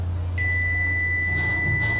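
A multimeter continuity tester beeps when its probes touch a neutral conductor in a single-phase 127 V electrical installation, giving one sustained, steady high-pitched tone that starts abruptly and holds over a low hum.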